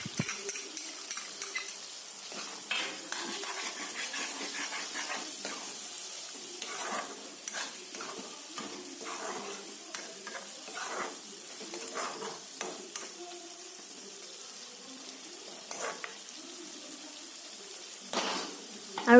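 Pork with sesame seeds being stirred in a pan, with scraping strokes over a steady soft sizzle throughout, and faint talk now and then.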